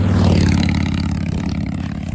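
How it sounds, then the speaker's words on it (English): A motorcycle passes close by on a road beside a runner, its loud engine roar droning steadily with a slight fade over two seconds. "Motorcycle,"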